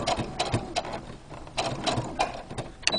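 A sewing machine back-stitching a fabric mask gives short, close bursts of rapid mechanical stitching, broken by brief pauses.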